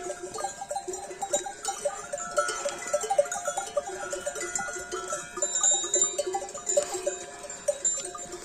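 Many small bells clink and jingle continuously as a flock moves nearby, with occasional faint bleats mixed in.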